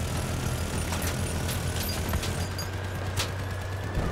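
Gunfire striking a player's armored vehicle in Crossout, a continuous crackling fusillade with sharp individual cracks over a low engine rumble, no voices.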